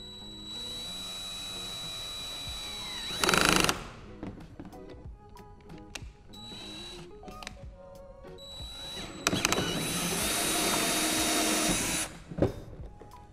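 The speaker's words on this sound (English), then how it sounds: "I'll drill the hole right here in the center where I would like the bulkhead union washer fitting to go" A power drill bores a hole through the center of a plastic bin lid, giving two loud bursts of high whining drilling separated by quieter tool handling and clicks, close up with no talking.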